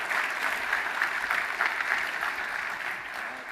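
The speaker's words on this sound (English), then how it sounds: "Maybe one last round of applause." Audience applause after a talk at a data engineering conference, a dense, steady round of clapping from a sizeable crowd that holds evenly for several seconds before easing slightly.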